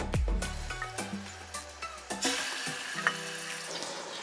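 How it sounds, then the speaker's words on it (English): Pork hits hot oil in a pan with a sharp initial crackle, then settles into a bright, steady sizzle punctuated by a few soft clinks and stirs close to the pan. "Once the oil is warm enough,"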